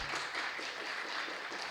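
Congregation clapping at a Sunday church gathering, a fairly soft, even patter of many hands filling the space without pause, no voices standing out above it.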